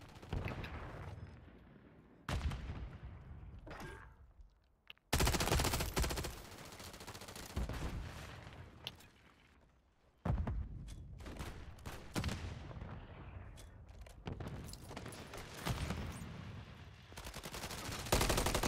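Gunfire in Call of Duty: loud, close bursts of automatic fire and single shots, hammering in long runs broken by short pauses, with no talk over the shooting.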